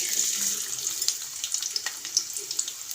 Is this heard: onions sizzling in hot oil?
yes